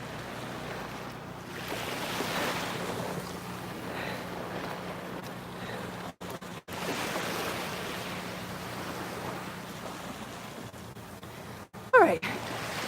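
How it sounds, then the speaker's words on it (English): Steady ocean surf washes onto a beach with some wind noise, a broad continuous roar that stays fairly even throughout, with a brief louder burst near the end. "It is a great day at the beach."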